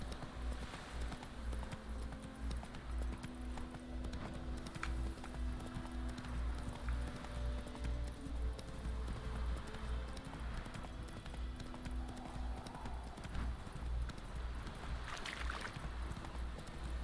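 Roach the horse trotting in The Witcher 3, a steady, even clip-clop of hooves that runs throughout, fairly quiet beneath a low background hum.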